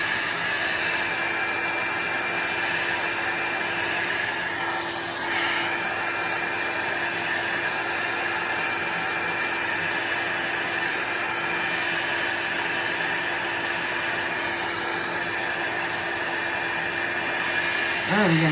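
A hair dryer blows steadily on an alcohol ink painting, a loud continuous rushing whoosh that runs unbroken throughout with only slight dips in pitch as it moves.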